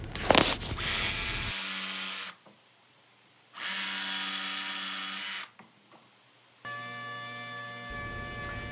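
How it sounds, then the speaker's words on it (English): A power saw cuts out a plywood door in a workshop, with the corners finished by jigsaw: loud bursts of high whining cutting that start and stop three times with short quiet gaps between. "I'm cutting this out by just raising the saw blade up through each side and then finishing the corners out with a jigsaw"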